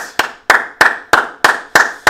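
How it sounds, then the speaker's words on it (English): Steady rhythmic clapping at an NFL game between the Oakland Raiders and San Francisco 49ers, sharp claps landing about every third of a second, close and loud with no talk over them. "we're going to stand and applaud"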